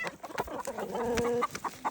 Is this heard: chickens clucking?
yes